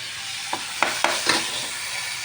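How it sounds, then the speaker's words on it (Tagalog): Garlic sautéing in margarine in a pot for sopas: a steady close sizzle broken by four sharp scraping stirs in quick succession, with no voices. "Gigisa po tayo ng bawang."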